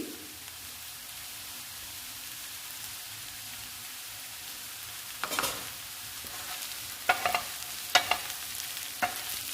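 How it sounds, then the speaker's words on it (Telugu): Chili powder frying with okra in a pan: a quiet, even sizzle hiss runs throughout, with a few sharp utensil scrapes and taps near the end, close but faint, without speech. "ఇప్పుడు ఈ కారాన్ని కూడా 2 నిమిషాలు వేయించుకోవాలి. అన్నీ కలిపి వేయించుకోవాలి."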